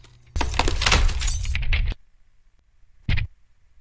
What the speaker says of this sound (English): I want to focus more on the detail from the destruction with the glass and the column snapping